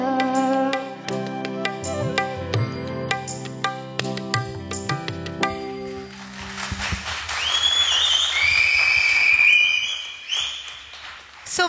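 A sung performance at a singing-competition semi-final fades out, then the audience breaks into cheering noise with several sharp, high whistles rising over it near the end.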